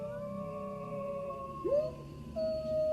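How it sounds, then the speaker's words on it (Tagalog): Dogs howling loudly at night, long sustained wavering wails that overlap and rise, heard close and alone with no talk. "Ang lalakas ng alulong ng aso?"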